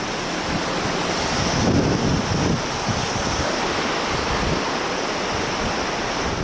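The glacier-fed Tamar River on the Kanchenjunga trek rushes past, a loud, dense and steady roar of flowing water with wind noise and no voices.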